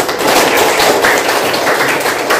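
A classroom of students applauds together, a dense, steady patter of many hands clapping at close range for a couple of seconds with no talking.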